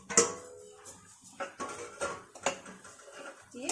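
Metal clinks and clatters of a lid going onto a cooking pot, several sharp knocks and a scrape spaced over a few seconds, close by with no talk.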